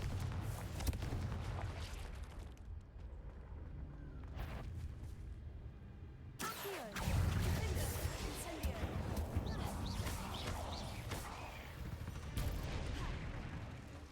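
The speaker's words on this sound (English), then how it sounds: "The heck just exploded?" Explosion in Hogwarts Legacy during a spider fight, with a sudden loud burst partway through giving way to crackling debris and rumbling clatter over ongoing game noise, and someone talking across the clip.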